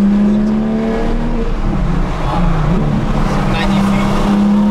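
Porsche 911 R engine fitted with an aftermarket exhaust, idling as a steady low drone at close range, with a slight dip and recovery in pitch midway, while people talk over it.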